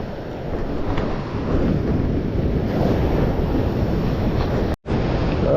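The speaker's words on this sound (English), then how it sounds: "we got a big wave coming right behind me" Ocean surf breaks on a beach in a continuous loud roar with wind buffeting the microphone, and a brief dropout near the end.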